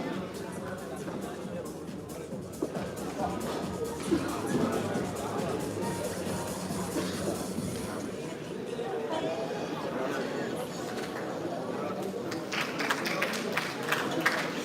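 An audience at a regional elite boxing tournament final in Veneto applauds the boxers, with steady clapping and crowd chatter and an announcer talking over it.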